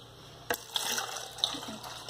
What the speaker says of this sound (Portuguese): Vamos colocar aos poucos 500 ml de água fria.